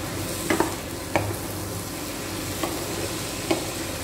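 Vegetables and paneer stir-fried in a pan on high flame for a street-style veg roll filling, a steady hiss of frying broken by a few sharp clicks and scrapes of the spatula against the pan.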